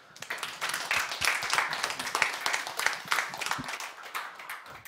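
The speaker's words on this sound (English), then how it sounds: "Everyone give him a round of applause." A brief, moderate burst of audience clapping at a tech meetup, a smallish group of hands clapping irregularly before trailing off near the end.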